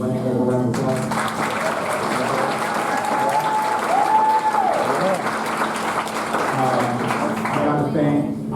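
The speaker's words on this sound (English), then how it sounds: "Students, let's give Mr. Lanning a round of applause" Sustained audience applause fills a school band's winter concert hall, a steady dense wash of clapping with crowd voices and a brief tone mixed in underneath.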